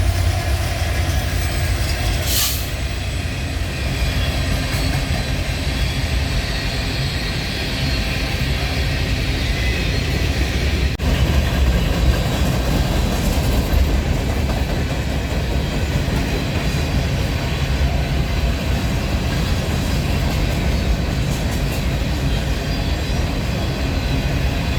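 BNSF freight train with a mid-train set of three locomotives (an ET44C4, an SD70ACE and an ES44C4) rolls steadily past in Rochelle, Illinois, a loud continuous rumble of cars and wheels filling the whole stretch without a break.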